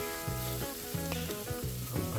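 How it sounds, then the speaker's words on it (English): Steak searing on a braai sizzles in a steady bed of crackle, with short low bursts that rise and fall about every half second. "Braai, seal it on one side, and then I'm going to turn it around, seal it on the other side"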